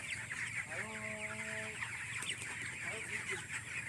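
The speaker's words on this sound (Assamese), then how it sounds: "এইটো মুৰ্গী ধৰিছোঁ" A chicken gives a short run of squawking clucks close by, over a steady background hum.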